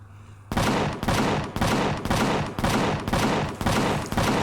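Turret gunfire in the sci-fi survival game Empyrion: Galactic Survival, a steady rhythmic volley of loud, heavy shots about twice a second, each blast decaying briefly before the next, with no talking over it.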